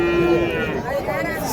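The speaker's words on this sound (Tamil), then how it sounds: "ஸோ நாட்டு பசுங்க ஒரு ஜோடி எடுத்துகிட்டு வந்திருக்காங்க பாருங்கள்." Native cows low at a busy cattle market held for Bhogi at Matrapalli, a steady moo with a clear tonal drone rising over dense crowd noise and some talk.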